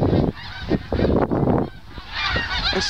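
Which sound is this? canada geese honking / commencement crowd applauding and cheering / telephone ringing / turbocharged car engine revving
canada geese honking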